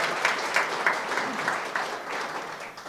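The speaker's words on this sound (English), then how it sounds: "let's give Fred a round of applause." An audience at a General Atomics opening ceremony applauds a staff member, a moderate burst of clapping that fades steadily over about three seconds, with no talking.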